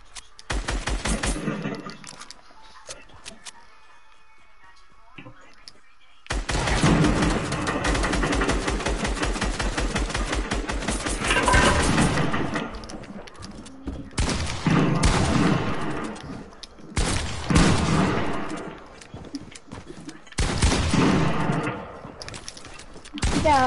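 SCAR rifle gunfire in a video game, loud bursts of rapid automatic shots in several long volleys separated by brief quieter gaps, close and harsh.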